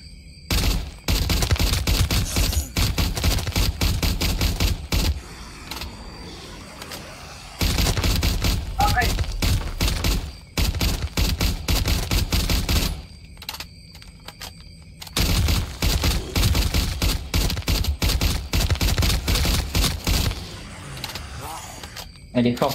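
Rapid bursts of gunfire from a weapon in a Roblox zombie shooter game, loud sustained volleys broken by short pauses, with a voice talking now and then between the bursts.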